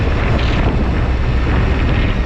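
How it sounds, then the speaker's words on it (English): Strong wind blows at a solo motorcycle campsite in Baja, buffeting the microphone with a loud, continuous roar and rumble and no voices. "It's pretty windy out"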